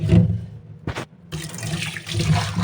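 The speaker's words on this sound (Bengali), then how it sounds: "লবণ দিয়ে ভালো করে ধুয়ে নিতে হয় এই ছোটো মাছগুলো" Running tap water splashes over small fish being washed with salt by hand in a kitchen sink, in short bursts with a brief pause, close by and fairly loud.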